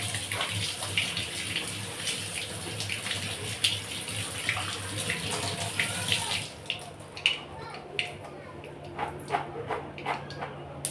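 Soybeans washed under a running tap, a steady hiss of flowing water for several seconds before it stops, leaving scattered clinks and small splashes; a voice talks quietly and a dog briefly barks.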